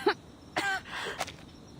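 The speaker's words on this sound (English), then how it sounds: "She coughs, and a small trickle of blood escapes her lips." A woman coughs and clears her throat in a few short, separate bursts, close and fairly soft, with quiet gaps between them and no talk.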